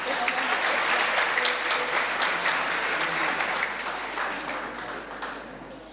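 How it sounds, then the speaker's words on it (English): Sustained applause from colleagues at a secondary-school education awards ceremony, a dense wash of many hands clapping at steady volume for several seconds, slowly tapering toward the end, with no speech over it. "We can clap hands, colleagues."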